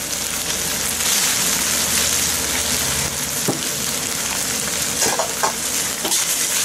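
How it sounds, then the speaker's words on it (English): Onions for beef chow mein frying hard in a hot pan, a loud continuous sizzle with occasional scrapes and clacks of stirring, close up, no voices. "Now you've got to put the onions in."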